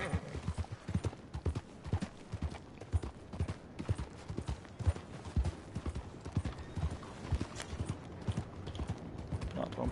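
Rapid, steady clip-clop of horse hooves from Red Dead Redemption on PS4, a close, continuous galloping rhythm with a brief whinny-like tone, no talk.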